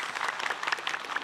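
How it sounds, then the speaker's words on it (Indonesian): A short burst of audience applause at an Islamic talk session, many hands clapping together briskly and fairly loud, filling the moment alone. "Tepuk tangan dulu yuk."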